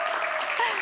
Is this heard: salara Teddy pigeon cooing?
no